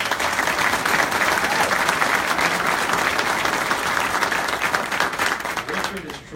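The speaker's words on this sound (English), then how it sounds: "big round of applause" An audience at a mayor's State of the City address in Fall River breaks into loud, sustained applause that stays dense and steady, with some voices mixed in beneath the clapping before it begins to thin at the end.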